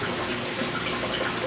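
Water in an external aquaponics siphon drains steadily, a dense continuous gushing and trickling at close range with no voices.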